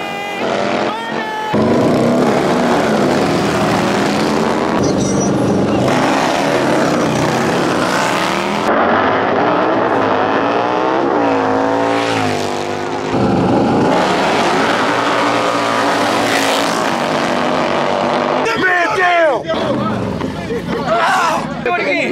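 Harley motorcycles race at a Soul Brothers annual event in Arkansas, loud engines roaring and revving up and down, with cheering crowd noise and people talking close by.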